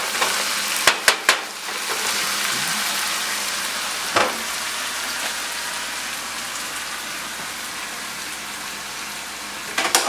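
Onions and spices sauté for a taco pie, a steady broadband sizzle filling the pan throughout, with a few sharp clatters of a utensil near the start and end and no voices.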